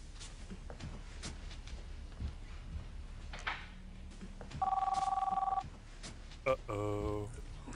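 A telephone rings in a dramatic TV scene, a steady electronic trill lasting about a second, then a second burst of ringing follows, heard over background talk and room noise.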